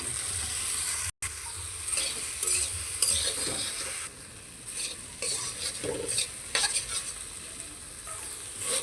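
Okra stir-fried with onion, turmeric and salt in a pan, a continuous sizzle under repeated scraping and clinking of a spatula against metal, with one sudden brief cutout near the start.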